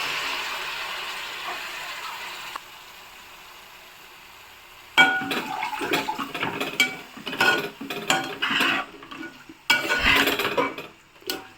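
A spatula works through an amaranth leaf fry with tomato in a metal pan, a quiet low hiss at first, then irregular scraping and clinking stirring strokes in close bursts with short pauses.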